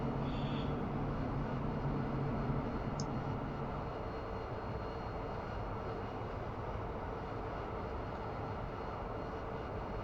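An AV-8B Harrier jet engine roars in a flight simulator during a slow VSTOL landing approach, a steady, even drone that holds constant and fairly quiet for the whole stretch.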